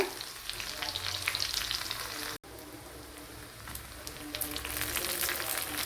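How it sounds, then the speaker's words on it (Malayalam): Chopped shallots hit hot oil where mustard seeds have already popped, for a Kerala varutharacha chicken curry, producing a loud, dense sizzle with fine crackles and one abrupt brief break midway; no voices. "അതിലേക്ക് ഒരു മൂന്നാല് കുഞ്ഞുള്ളി കട്ട് ചെയ്ത് ചേർത്ത് കൊടുക്കുക"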